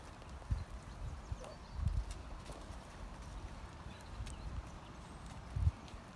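Horse hooves thud softly and irregularly on an arena surface during dressage test practice, faint and muffled with occasional firmer footfalls, no talking.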